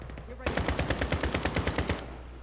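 A decoy grenade in a tactical shooter game mimics automatic gunfire: a rapid burst of about fifteen evenly spaced shots lasting roughly a second and a half, fairly distant and moderate in level, with no talk over it.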